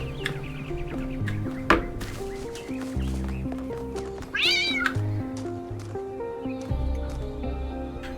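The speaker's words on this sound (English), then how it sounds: "I stepped on a cat." A cat meows in a puzzle video game after being stepped on, a short rising-and-falling cry over steady game music with low chiming notes.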